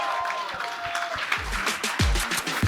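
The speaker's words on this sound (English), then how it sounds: "Ladies and gentlemen, clap it up for Valerie Vaughn." Crowd applause at a live comedy podcast taping as a contestant is introduced, moderate scattered clapping with some low thumps and murmuring, fading and swelling over a couple of seconds.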